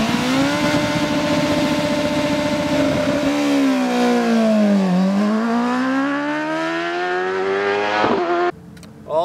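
A motorcycle engine holds a loud, steady roar, then dips and climbs through the revs while riding onto pavement, ending in an abrupt cut and a short burst of wind noise.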